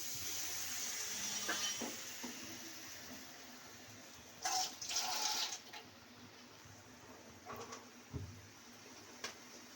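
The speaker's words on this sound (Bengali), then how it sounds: "একটু এই যে জলটা একটু দিলাম" Water is poured into a cooking pot while making a Bengali bhetki fish-bone curry: a short splashing pour stands out at mid-clip over steady kitchen background hiss, followed by a few brief clinks and splashes.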